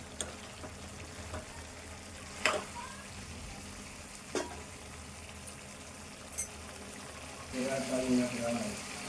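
Chicken curry with field beans frying in a pan: a low continuous sizzle with several sharp utensil knocks, and a louder burst of bubbling and stirring near the end.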